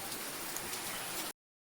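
Rain falls steadily in a soft, even hiss for just over a second before cutting out abruptly.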